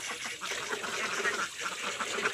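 Domestic ducks on a small farm quack in a dense, overlapping chorus, close by and continuous, with no one talking over them.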